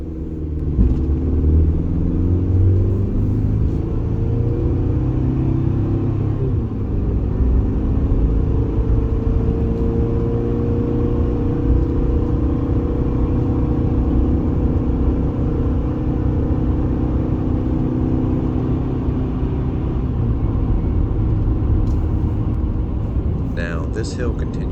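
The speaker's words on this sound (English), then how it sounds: "let's listen to how this four-cylinder does" A four-cylinder truck engine pulling a 9,000-pound trailer up a long hill, a steady loud low drone heard from the cabin with a slowly rising tone, running continuously without letup.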